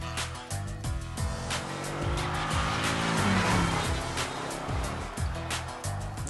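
A Jeep Cherokee SRT8 driven hard, with a loud engine roaring through rising and falling gear changes and tires squealing over a dense, continuous wash of noise.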